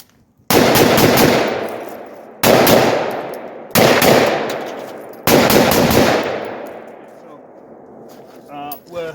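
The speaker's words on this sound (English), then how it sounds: "Okay, so I'm gonna fire this in multiple directions." Four loud rifle shots ring out at night from a .223 fitted with a Spitfire muzzle brake, spaced a second or two apart, each with a sharp crack and a long booming decay, followed by brief speech.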